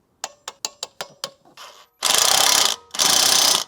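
A wrench on the hub bolts of a BMW E60 M5 gives a quick run of about six sharp ratcheting clicks, then two long, loud whirring bursts, close up with no talking.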